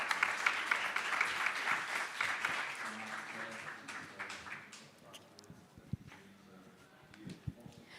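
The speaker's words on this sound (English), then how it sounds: "A big round of applause." An audience at a young entrepreneurs' pitch event claps, loud at first and then thinning into scattered individual claps, with some murmuring voices underneath.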